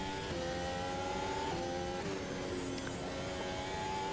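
Formula 1 car engine from an F1 video game running steadily on track at the South Africa circuit, a continuous loud engine drone with shifting tones, close and alone with no talk.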